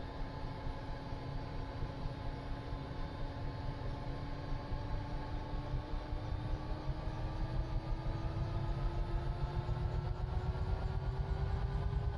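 A UH-1H Huey helicopter's turbine engine in Microsoft Flight Simulator spools up, its loud steady whine rising gradually in pitch over a constant rumble, with no talking.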